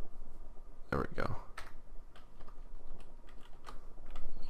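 A computer keyboard being typed on during a Windows 7 installation in VirtualBox: an irregular run of light key clicks, close and moderately loud, over a steady background hiss.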